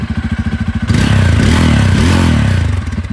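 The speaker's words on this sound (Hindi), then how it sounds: "डुअल बैरल एग्जॉस्ट है, एक बार आवाज़ सुन लो इसकी" Bajaj Pulsar N250 with a dual-barrel exhaust, idling in an even pulsing beat, then revved hard into a loud, deep, thumpy and bassy roar that holds steady before easing back, close by with no talking.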